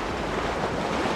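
Steady roar of sea surf and wind on a beach during shore surfcasting, a dense continuous wash of breaking waves with wind buffeting the microphone, no voices.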